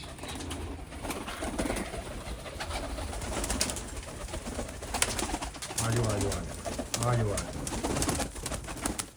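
Pigeons coo softly amid a busy outdoor background, with people talking throughout.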